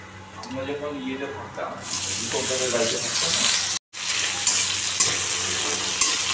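Nigella seeds drop into hot oil in a pan and set off a sudden bright sizzling hiss that carries on steadily, briefly cutting out once. Someone speaks over the quieter pan before the sizzle starts.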